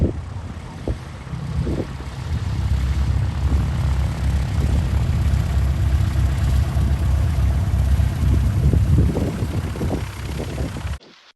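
A light aircraft's propeller engine idles at low throttle after a first solo flight, a steady close drone with a brief lift in level before it cuts off at the end during shutdown.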